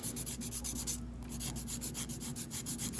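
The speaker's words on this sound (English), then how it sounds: "So now I'm just filing the nail" A polygel nail on a plastic nail tip is filed with steady, rapid back-and-forth rasping strokes, close and continuous, with one brief pause before the strokes resume.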